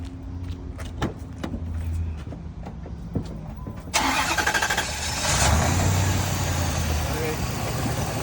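Car engine after a jump start: several clicks, then the starter cranks and the engine catches midway, settling into a loud steady idle, with people talking over it.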